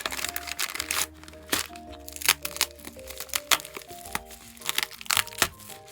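A mailed package of photocards is torn open by hand. Loud, close crackling and crinkling of plastic and paper comes in uneven bursts of sharp rips, with no talking.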